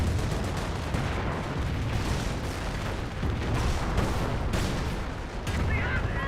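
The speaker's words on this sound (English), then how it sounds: "It's the mortar half-track." A mortar half-track fires in the strategy game Company of Heroes amid a dense, continuous battle din of booms and rattling gunfire, loud and sustained throughout, with other guns sounding alongside.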